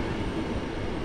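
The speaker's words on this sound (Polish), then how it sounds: "Pociąg wyruszył punktualnie." Train departing Kraków Główny station, a brief dense low rumble of rolling wagons heard close and fairly loud, with no voices.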